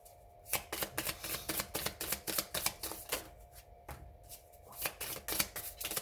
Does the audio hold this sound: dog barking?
no